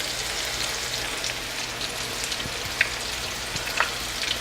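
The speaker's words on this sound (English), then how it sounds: "we're going to let these fry up about maybe a minute and a half" Panko-coated shrimp fry in hot oil, giving a steady, even sizzle with a few small pops and crackles, close and alone with no voices.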